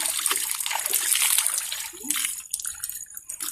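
Water splashes and pours over a person's head during an outdoor bath at a well, a steady broadband gush with uneven surges and brief lulls, no talk.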